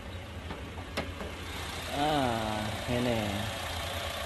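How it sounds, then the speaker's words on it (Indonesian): A Honda i-VTEC four-cylinder car engine idles smoothly with its hood open, a low steady hum with a few light knocks, partly under a person talking nearby. "Kita lihat ruang mesinnya, ini dalam keadaan nyala ya teman-teman."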